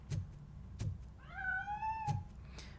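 A cat in RoboCop: Rogue City gives one drawn-out, rising meow mid-clip, framed by several dull knocks or thumps before and after, fairly close with no talking.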